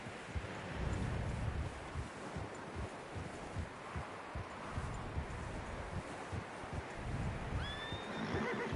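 A horse in the snowy world of the video game Red Dead Redemption whinnies faintly, with soft hoof clops and wind rustle running steadily underneath.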